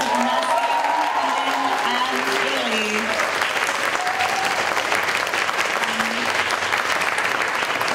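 Loud, dense applause from an audience at a literary reading, honouring three readers, sustained without a break across the whole stretch, with a voice talking over it at the start.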